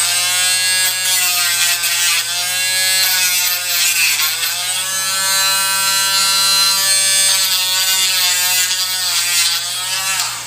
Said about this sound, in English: sometimes it even pays to take a little bit of material, just kind of run around it with a Dremel